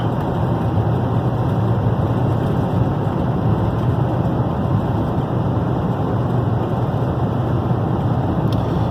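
An old bus engine labors up a steep hill in third gear, its steady low drone loud and continuous throughout with no pauses.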